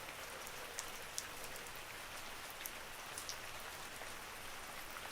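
Steady rain falls, soft and continuous, with faint scattered drops ticking on a surface and no voices.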